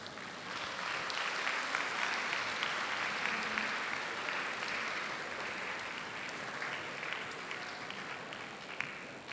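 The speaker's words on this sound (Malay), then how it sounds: "Okey, tepukan gemuruh" An auditorium audience at an entrepreneurship forum at DECTAR, UKM gives a long round of dense, steady clapping that stays loud and even for nearly ten seconds with no talking.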